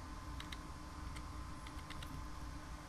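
Keys clatter on a computer keyboard in a short burst of quick, light taps over a steady background hum.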